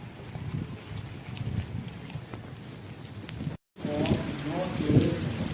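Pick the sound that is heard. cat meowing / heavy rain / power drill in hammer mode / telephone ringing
heavy rain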